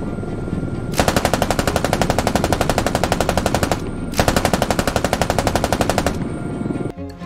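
Door gunner on a Canadian CH-146 helicopter firing a machine gun in Squad: two long, loud, rapid sustained bursts of about three and two seconds, separated by a short pause, over steady rotor noise.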